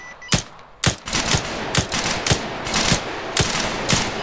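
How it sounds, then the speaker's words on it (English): Bursts of machine gun suppression fire in a tactical military operation, sharp repeated shots roughly every half second over a steady noisy background, loud and close. "Dom, get the suppression fire going."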